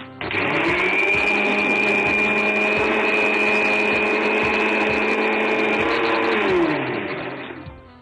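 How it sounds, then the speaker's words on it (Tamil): A mixer grinder runs steadily as beetroot is ground into a fine paste, a loud continuous whirring motor with a high whine that slows and fades in the last second or so. "இதையும் நல்லா நைஸா அரைச்சிடுங்க"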